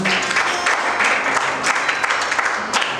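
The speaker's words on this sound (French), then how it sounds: "On acclame pour le Seigneur." Church congregation applauding together during a service, dense and loud clapping that carries evenly through the whole stretch.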